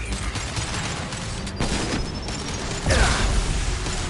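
Gunfire in a Mass Effect 2 battle: a continuous clatter of rapid shots and mechanical weapon noise, with a heavier burst near the end.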